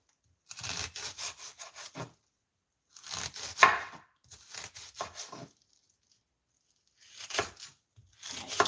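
A kitchen knife chops onions during home batch cooking, producing three quick runs of close, crisp chops on a cutting board, separated by short pauses, with no talk.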